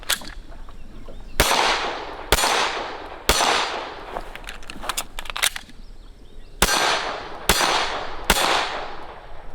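Pistol handling during dry fire training with no ammunition: sharp metallic clacks and snaps recur about once a second, loud and close, with a cluster of quicker clicks in the middle.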